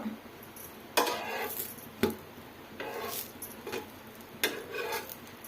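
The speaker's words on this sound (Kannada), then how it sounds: "ಈ ಥರ ಸೇರಿಸ್ಕೊಂಡು ಫ್ರೈ ಮಾಡ್ಕೊಬೇಕು." Bread toast pieces fried in ghee in a pan, with several sharp clinks and scrapes of a spatula against the pan over a faint sizzle, close by with no talking.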